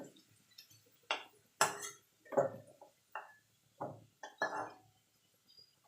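Potatoes fried red in oil being lifted out of a pan with a metal utensil: about eight sharp clinks and scrapes in separate bursts, close by, with no talk.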